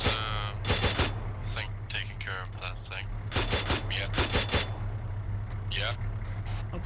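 Rifle magazine emptied in Arma 3, clusters of sharp close gunshots fired in quick bursts over a steady vehicle engine drone, with speech heard intermittently.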